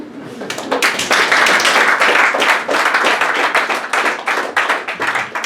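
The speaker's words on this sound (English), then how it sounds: "Give another round of applause to Andrew Ray." Audience applause and clapping at a poetry reading, following a poem, loud and sustained with dense overlapping claps throughout.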